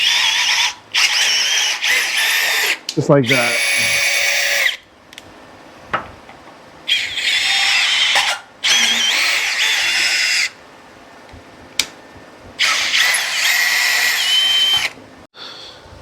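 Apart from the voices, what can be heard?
drill driving a tap to thread a hole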